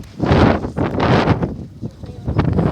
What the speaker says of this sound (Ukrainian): У нас сьогодні такий вітер, на вулиці тепло, плюс 20 градусів, але дуже вітряно.